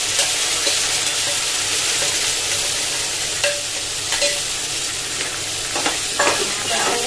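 Onions, potatoes and green chilies frying in a pan give a loud, continuous sizzle, broken by a few scraping stirs and clinks toward the end.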